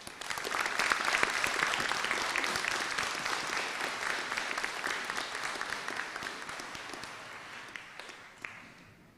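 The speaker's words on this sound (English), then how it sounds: "Let us give all of them and all other Dodea students a round of applause" Applause from the crowd at the Vicenza High School class of 2023 graduation ceremony swells quickly into a broad, dense roar of clapping, then gradually thins and fades over about nine seconds.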